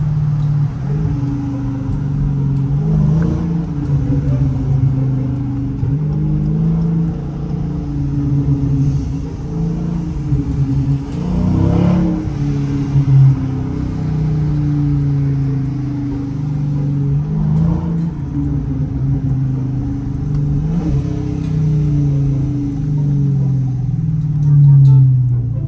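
A Dodge Challenger Scat Pack engine drones steadily from inside the car in manual mode, with rumbling revs rising and falling as it downshifts, loud and continuous throughout.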